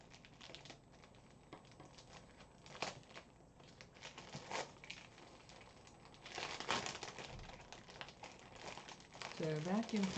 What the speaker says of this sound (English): Okay, let's see what happens when you remove the vacuum pack.